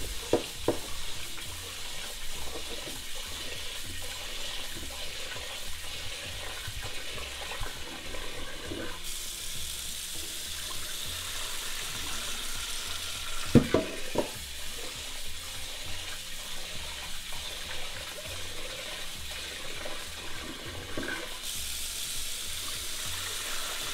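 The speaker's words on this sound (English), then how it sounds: "At least 3 times wash it." Rice being washed in water in a pot, with continuous sloshing, swirling and splashing, occasional clinks and pours, close and steady throughout with no talking.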